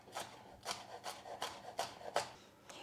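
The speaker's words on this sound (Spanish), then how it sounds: "Lo partimos a tiras y después lo vamos a cortar en trocitos pequeños" A knife cuts strips of pepper into small pieces on a cutting board, making a soft, faint, regular series of about seven scraping chops.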